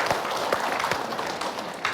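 A studio audience at a televised religious talk show claps in a loose, uneven patter, with a few sharper individual claps standing out over a softer background of hands.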